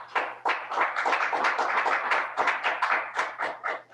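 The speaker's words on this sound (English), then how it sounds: "yeah, that's worth a clap." Audience applause in a meeting room, many hands clapping in a dense, steady patter at close range, lasting the whole stretch without voices.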